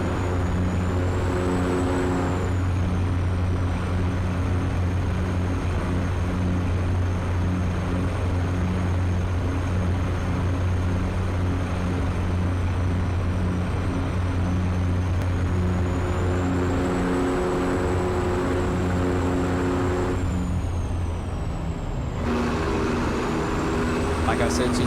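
A truck engine in American Truck Simulator holds a steady, low, droning rumble for the whole stretch, with a faint high whine above it and a brief shift in tone near the end.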